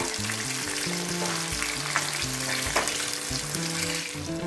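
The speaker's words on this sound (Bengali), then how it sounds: "আমি এবার উল্টে পাল্টে ভালো করে লাল লাল করে ভেজে নেব" Raw green banana slices fry in hot oil, a dense, steady sizzle and crackle running loud and close throughout with no voices.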